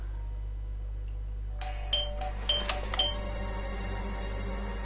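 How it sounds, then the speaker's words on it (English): A doorbell in the video game Blues and Bullets rings as a few bright, chiming tones over a steady low hum. A short cluster of ding-like strikes is followed by a fading ring. "Why did you ring? I thought I should use the doorbell so I wouldn't startle you."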